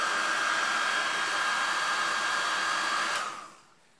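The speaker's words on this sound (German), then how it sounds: "Ich föhne jetzt so lange, bis es trocken ist und nicht mehr weiterläuft." Hair dryer blowing steadily and close up on wet acrylic pour paint, a constant whine that cuts off near the end and fades away.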